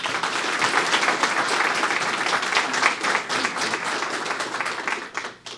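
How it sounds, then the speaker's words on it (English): An audience gives sustained applause for members of a county EMT academy's graduating class at their ceremony, dense clapping that fills the room steadily before tapering off at the end. "Let's give these members a round of applause."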